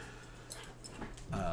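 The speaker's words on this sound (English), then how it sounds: "Bobo, you crazy dog" A pet dog whimpers softly in short, faint whines close by, a few brief squeaks ending in a louder whine, with someone talking around it.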